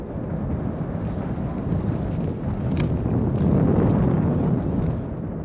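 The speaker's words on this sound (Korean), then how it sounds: "광활한 촬영장에 바람 소리가 요란하다." Strong wind roaring continuously across a wide outdoor historical drama film set, a low rushing noise buffeting the microphone and swelling slightly partway through.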